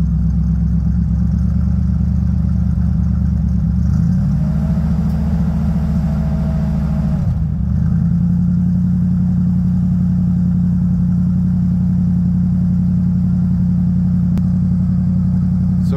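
A Bombardier wide gauge snowmobile engine runs loud and close after a cold-weather start, a steady low idling drone that shifts pitch briefly midway before settling into an even idle.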